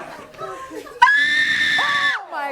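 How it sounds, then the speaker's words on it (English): A person lets out a sharp, sustained terrified scream on cue, loud and piercing for about a second, after some quieter voices and scattered noise, with a rising vocal tail at the end. "Who's got the terrified scream in this?"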